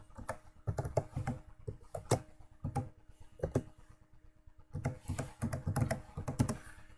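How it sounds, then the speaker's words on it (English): A password being typed on a computer keyboard: a run of crisp, close keystrokes in uneven bursts with short pauses between them, no voices. "So I'm going to type in my password."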